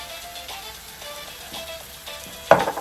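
Ginger garlic paste fries in a pan alongside fish curry spices, a soft steady sizzle with faint crackles, then a louder burst near the end as the paste goes in; no talking.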